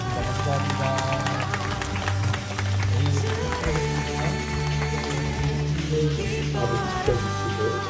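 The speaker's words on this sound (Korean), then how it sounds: "우리 먼저 우리 하나님께 영광의 박수를 드리겠습니다" A church congregation applauds during a Sunday worship service, steady dense clapping sustained throughout, mixed with music and voices.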